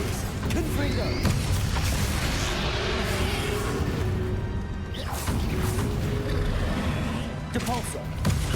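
Blasting spell cast during a boss battle in the Hogwarts Legacy video game, heard as loud booming bursts and crashes over a dense, continuous layer of game combat noise, with voices speaking throughout.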